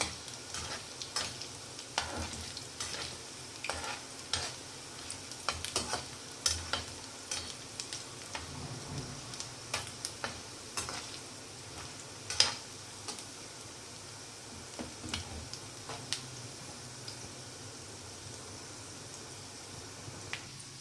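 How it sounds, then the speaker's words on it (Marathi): Egg fritters frying in hot oil: a faint, steady sizzle with scattered small pops and occasional stirring clicks, heard alone. "सर्व बाजूने याला छान फ्राय करून घ्यायचं।"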